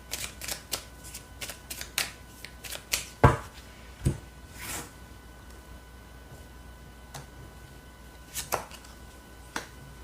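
Tarot cards being shuffled and drawn during a reading, heard as a run of crisp, close card slaps and flicks in quick bursts. There are quieter gaps in between and occasional single sharp snaps.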